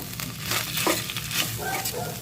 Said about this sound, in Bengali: কাজুগুলোকে আমি ভালো করে ভেজে নেব